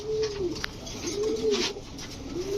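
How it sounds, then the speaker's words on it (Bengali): A male red khaki pigeon cooing in low, rounded phrases, three coos spaced about a second apart over a steady background hiss. "লাল খাকি একটা নর কবুতর"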